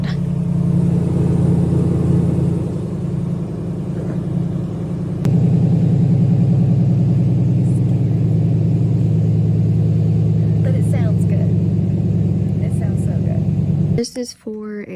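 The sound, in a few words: Jeep engine running after oil leak repair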